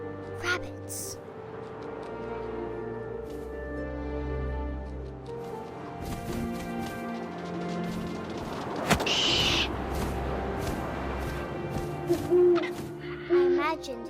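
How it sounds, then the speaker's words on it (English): Owl hooting in the video game What Remains of Edith Finch, a few soft hoots over wind and game ambience, with a voice narrating across much of the clip. "And suddenly, I was an owl."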